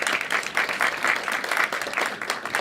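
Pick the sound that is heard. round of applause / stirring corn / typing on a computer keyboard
round of applause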